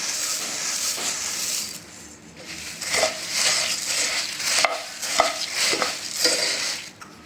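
Spiced puffed rice (masala pori) is stirred in a pan as more is added bit by bit, giving a steady dry crunching and rustling with scraping strokes, fairly close and without talk.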